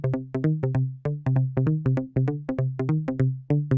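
A bright synth pluck melody for an Afrobeat track plays alone in short, evenly rhythmic notes, each with a quick attack and a processed, ringing decay.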